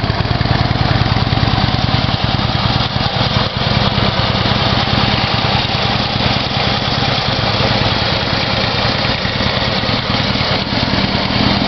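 A 2012 Harley-Davidson Dyna Switchback with a 103 cubic inch engine idles loudly and steadily, a continuous rumbling throb that stays at an even level throughout with no voices.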